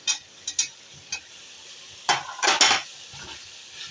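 Fried potatoes tipped into a pot of spiced water, heard as a few clinks of a utensil followed by a burst of clattering and stirring against the pot, then quieter settling noises.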